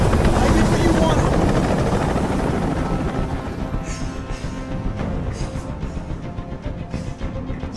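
Helicopter hovering in Detroit: Become Human, a loud steady rotor drone that fills the first half, then fades lower and steadier under a voice speaking.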